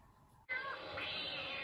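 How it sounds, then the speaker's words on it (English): A house cat meows loudly and close by, a drawn-out call that starts after a short quiet moment and carries on steadily for over a second with no voices. "My cat's calling me."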